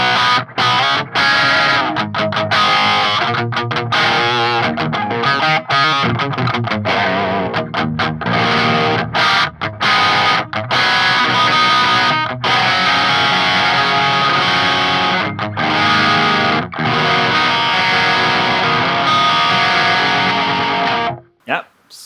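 Electric guitar through a Maxon 808 overdrive pedal and a Peavey Vector amp simulation plays a metal riff with chords and short breaks, its gritty, saturated tone steady and loud before cutting off near the end.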